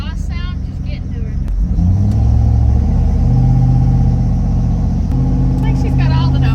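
SUV fitted with an aftermarket cam and tune, its exhaust rising into a loud, deep drone as it accelerates on the road, with steady rumble continuing while people talk inside the cabin.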